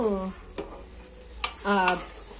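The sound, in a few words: meat frying in pan until water evaporates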